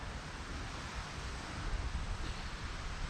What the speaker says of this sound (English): Oh, that wind is not cooperating here.